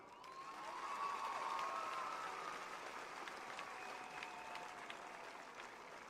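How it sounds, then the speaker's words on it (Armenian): A crowd gives the government a round of applause, clapping swelling within a second into a steady, fairly distant roar of hands with faint cheering, then slowly easing off. "միասին ծափահարենք մեր կառավարությանը"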